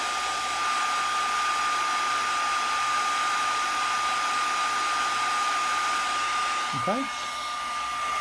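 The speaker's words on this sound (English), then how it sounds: "I will blast it with the heat tool as well, just to make sure that we don't have any bleeding" A heat tool blows hot air onto pigment ink, a loud steady whooshing drone with a fixed high whine. Near the end it briefly dips while someone speaks a single word.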